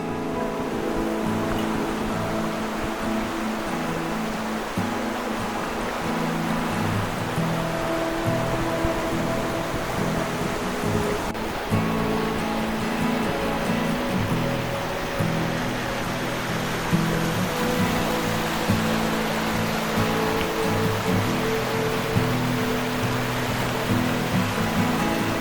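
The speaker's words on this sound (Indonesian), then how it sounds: "hanya terdengar suara sungai yang kencang gitu ya" Loud, steady rush of a fast-flowing river at night near a cabin villa in Pangalengan, Bandung, a dense continuous roar that fills the whole stretch without pause.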